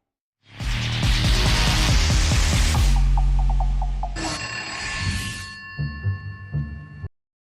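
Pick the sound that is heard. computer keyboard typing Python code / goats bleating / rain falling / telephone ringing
telephone ringing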